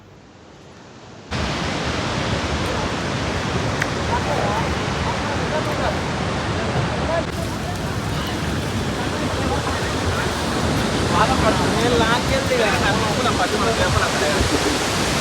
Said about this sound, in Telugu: సో వాటర్కి స్ప్రింకిల్స్ పడుతుంటే అబ్బాబ్బా రోడ్ మొత్తం తడిసిపోయింది